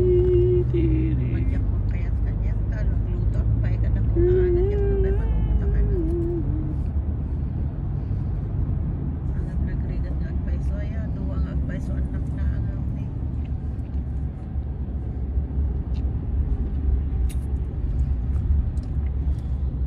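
Steady road traffic rumble with passing cars and buses on the way to San Francisco, a continuous low drone with faint tonal sounds on top, and people talking now and then over it.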